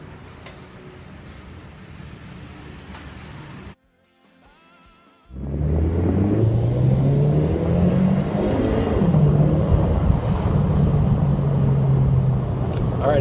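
Scion FR-S car engine and exhaust: a steady low rumble of a running engine, briefly dropping out, then returning louder with rising revving tones as the car accelerates, close and continuous.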